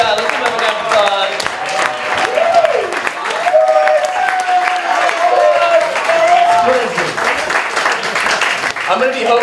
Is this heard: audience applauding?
yes